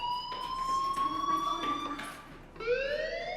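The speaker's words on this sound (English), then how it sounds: "do you hear that fire alarm? That means you should be outside." A fire alarm rings steadily in Life Is Strange, a piercing electronic tone holding nearly level for about two and a half seconds before a brief dip and a fresh rising sweep, with faint game ambience beneath.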